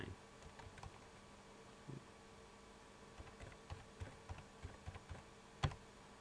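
Quiet, close clicking of keys on a computer keyboard, irregular taps in short bursts with one sharper strike near the end, alone in a faint hum of the room.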